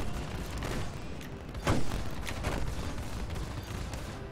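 Enemy ship gunfire in the Star Citizen space combat game, a steady dense barrage of shots with one louder burst near the middle, heard close and continuous without talk.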